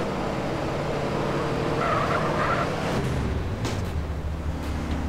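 A car in the video game GTA San Andreas skids with squealing tires over steady engine noise, loud and close, the screech rising then fading.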